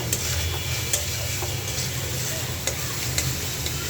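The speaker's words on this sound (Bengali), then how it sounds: "তো আমি এই যে ভর্তা করার জন্য চিংড়ি মাছটা ভাজে নিলাম।" Shrimp frying in a pan for a mashed bharta, a steady, close sizzle with occasional small pops and clicks, heard alone without talk.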